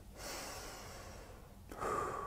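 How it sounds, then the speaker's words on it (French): Two long, breathy exhalations or inhalations of human respiration, close and fairly soft, the second a little stronger, with no talking. "Respiration."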